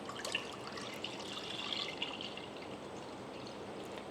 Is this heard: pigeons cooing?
no